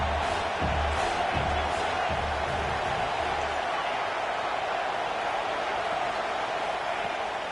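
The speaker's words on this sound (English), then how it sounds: "Man, this crowd really affecting the football game." Home crowd at a football game, a dense, loud sustained roar of cheering that fills the space, with a few low thumps early on beneath it.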